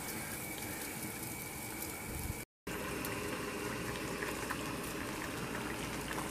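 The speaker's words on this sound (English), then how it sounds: "There she is, boiling nicely." A pot of Coca-Cola and lemon boils vigorously, a dense steady bubbling and hissing close by that continues without pause apart from a brief cut.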